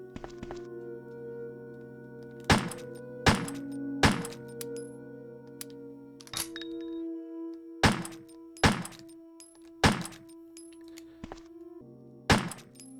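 Magnum shots in Resident Evil (1996) blast a screen: about nine sharp, loud booming impacts come at irregular intervals, separated by a steady humming tone.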